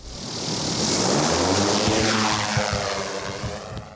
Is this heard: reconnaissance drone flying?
yes